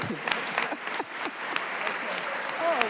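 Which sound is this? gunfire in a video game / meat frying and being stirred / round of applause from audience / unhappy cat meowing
round of applause from audience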